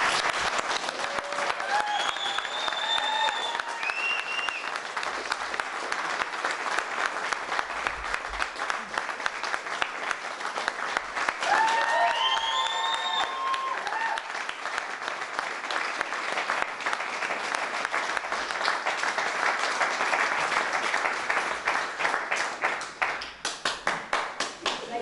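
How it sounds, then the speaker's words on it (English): Wedding guests applaud the newlyweds at a Scottish wedding reception, sustained loud clapping from a large standing crowd lasting about twenty-five seconds, with scattered cheers and whoops early on and no clear speech. "can I ask you please to stand to your feet and give them a big,"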